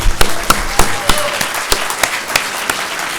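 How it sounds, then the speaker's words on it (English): Sparse, distinct hand claps from a modest crowd at the opening of a VR expo, thanking sponsor AMD, irregular and close, with separate claps standing out rather than merging into a roar. "please join me in thanking them with a round of applause"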